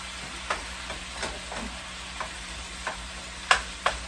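Meat and onions fry in a non-stick pan with a low steady sizzle, broken by scattered stirring clicks and scrapes, two sharper ones near the end.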